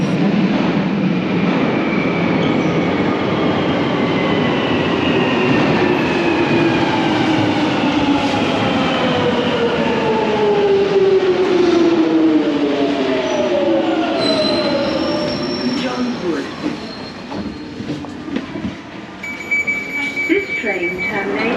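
A London Underground train rumbles loudly into a station, wheels squealing with long descending tones as it slows, then quieting toward a stop.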